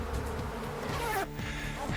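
A swarm of killer bees in Arizona buzzes loudly and continuously, a dense, layered drone of many wings close by, with no pauses and no voices.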